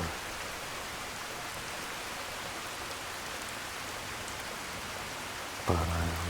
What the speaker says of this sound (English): I always found the weather very peaceful when it rained in Skyrim